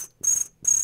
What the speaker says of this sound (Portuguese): só se ouve o grilo, né?